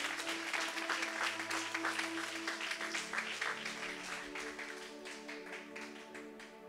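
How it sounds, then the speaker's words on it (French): A church congregation applauds during a Sunday service, a steady, full crowd of clapping that stays loud and gradually thins slightly, with a sustained musical tone underneath. "Clap for the Lord."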